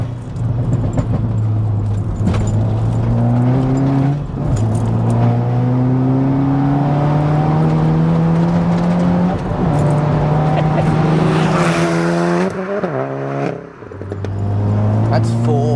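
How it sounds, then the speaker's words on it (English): A 400 bhp VW Polo GTI accelerates hard through the gears on a B-road, its engine note climbing steadily and dropping at each upshift, loud and close from inside the cabin, with occasional talk over it. "I've never really drove it this hard"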